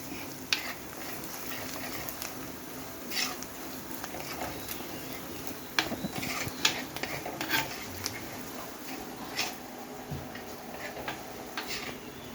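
Masala stirred and frying in a pan for Kuttanad-style fish curry, with faint sizzling and soft scattered scraping and tapping of a spoon against the pan, close but quiet, with no talk.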